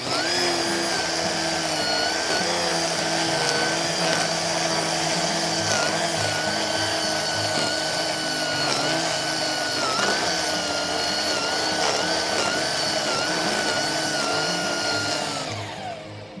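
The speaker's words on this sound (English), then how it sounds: "About halfway, I'll turn on setting 2 so you can hear the difference in the trimmer." Ridgid 18V string trimmer running on its lower speed setting, a loud, steady, close whine with stable motor pitch that holds throughout and tapers off at the very end.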